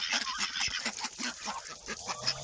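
Village farm poultry gathered in front of their coop honk and cackle while waiting for evening feed, a quick run of repeated calls at moderate distance, fairly faint.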